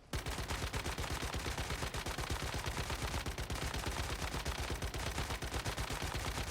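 Automatic gunfire from the video game Once Human rattles in a rapid, continuous stream of sharp shots, loud and unbroken for the whole stretch.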